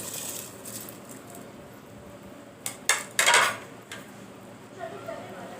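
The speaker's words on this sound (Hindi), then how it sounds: "अब इसमें मैं राइस ऐड कर रही हूँ।" A few bursts of pouring and rattling as rice grains spill into a pot of beef pulao, loud and close, between quieter kitchen stretches.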